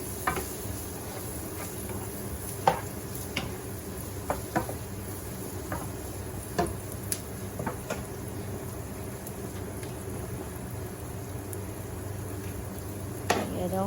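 Cherry tomatoes cook in a pan with olive oil for pesto pasta, giving a quiet, steady sizzle with scattered small pops and clicks throughout.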